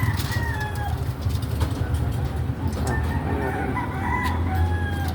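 A fighting rooster crows loudly several times, long rising calls ringing out over a low steady rumble, with other fowl clucking faintly in the background.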